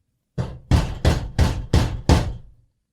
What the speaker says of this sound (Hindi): थोड़ी देर बाद कोई कल्लू के घर का दरवाजा खटखटाता है।